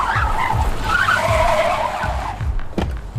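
A car skids to a stop, its tires screeching loudly and continuously against the road with a low engine rumble underneath, close by and with no talking.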